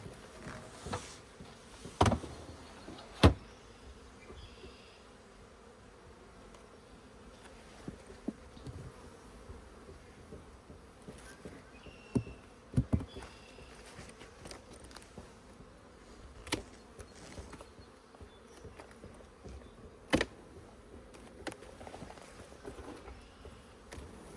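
Soft, low buzzing of many honeybees at an open hive hums throughout, broken by occasional sharp clicks and knocks close by during a Formic Pro varroa mite treatment.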